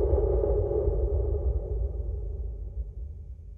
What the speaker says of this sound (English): It's basically like a really huge low frequency hit.